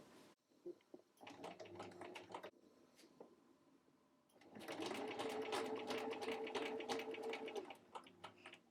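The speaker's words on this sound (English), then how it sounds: "I'm just going to go ahead and I'm going to straight stitch all the way around" A sewing machine straight-stitches around a jacket's arm seam: a stuttering run of short stitching bursts, a brief pause, then a longer steady whir up close.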